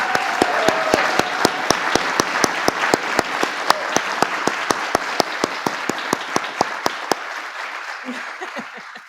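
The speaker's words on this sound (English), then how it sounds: "Can we give her another round of applause?" An audience at an event honoring military families gives sustained, loud applause, with one sharp, steady clapper standing out close by before the clapping tapers off.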